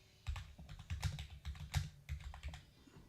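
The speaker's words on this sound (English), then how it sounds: "let's just type it in right here." Quick, fairly quiet keystrokes clatter on a computer keyboard in short irregular runs, close and alone without any talking.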